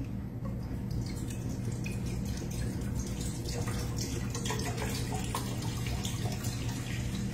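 Tap water running steadily into a pot for cooking noodles, a continuous close splashing and trickling stream with no talk over it.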